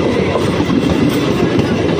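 A train bound for Sealdah passes nearby with a loud, continuous rumble and rhythmic clatter of wheels on rails.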